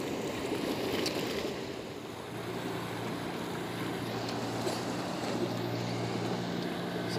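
Waves rise at a river estuary with murky water: a continuous rushing wash of surf over a low rumble, steady and fairly distant, with no one talking.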